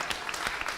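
A brief burst of audience clapping, a short run of scattered, uneven hand claps at moderate loudness lasting under a second.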